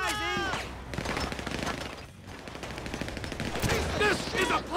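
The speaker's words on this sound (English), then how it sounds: "Grenade launcher!" Grenade launcher fire in GTA V rings out amid a chaotic gunfight, with repeated loud shots and blasts filling the whole stretch over a busy game soundscape.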